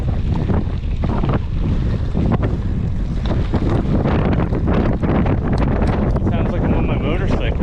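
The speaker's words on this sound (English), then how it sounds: "Man, this wind has really picked up." Strong wind roars steadily into the microphone while a rider mountain bikes outdoors, a loud, continuous buffeting rush with gusty surges that never lets up.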